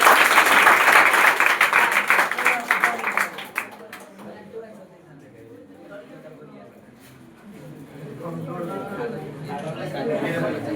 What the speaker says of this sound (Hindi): पंकज कुमार के लिए जोरदार तालियां।